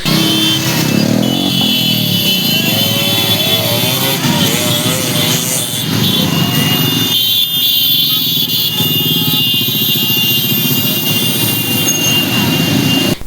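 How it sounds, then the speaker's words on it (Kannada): Motorcycles rev loudly and continuously at a village bike rally for a Basaveshwara Jayanti procession through the main streets, a dense roaring engine wash with rising and falling throttle and crowd noise mixed in. "ನೂರಾರು ಯುವಕರಿಂದ ಬೈಕ್ ರ್ಯಾಲಿ ಜರುಗಿತು"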